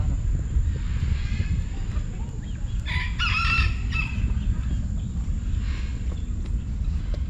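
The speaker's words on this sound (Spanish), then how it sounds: "Gallos conchinchinas." A Cochin rooster lets out a single loud crow midway through at an animal rescue zoo, with fainter bird calls and low outdoor noise around it.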